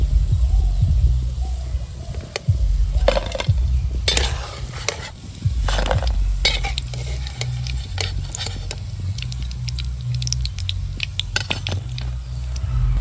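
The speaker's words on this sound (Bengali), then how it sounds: "এবার বাকিগুলো একই রকম করে ভেজে নেব।" Peanut fritters deep-frying in hot oil give a loud, continuous sizzle with the crackle of bubbling oil, broken by sharp clinks and scrapes of a utensil stirring and lifting them.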